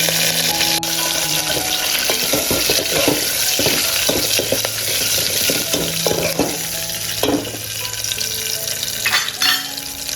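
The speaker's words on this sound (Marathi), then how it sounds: "आपला लसूण कढीपत्ता आणि जिरा छान प्रकारे तेलामध्ये फ्राय झाला आहे" Garlic, cumin and fresh curry leaves fry in hot oil for a tempering, a close, steady sizzle broken by scraping stirs and crackling spurts that continue for the whole stretch without any talking.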